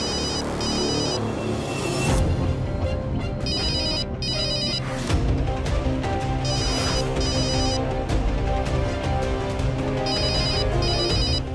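A mobile phone rings with a repeating electronic ringtone, loud and close, in bursts that recur throughout over a busy musical background.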